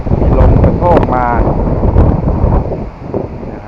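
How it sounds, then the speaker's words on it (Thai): Gusty summer-storm wind buffets an earth house in central Thailand, loud rushing blasts that rise and ease in waves, with someone talking over it. "มีลมกระโชกมา"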